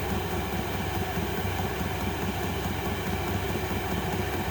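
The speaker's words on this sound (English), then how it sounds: "See, now it's pumping fuel." A Vevor 40-watt 12-volt diesel heater runs while its fuel pump ticks, giving a steady, even mechanical hum with fine rapid clicking underneath, heard close with no talk.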